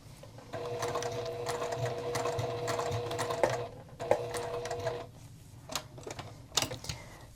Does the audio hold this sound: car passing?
no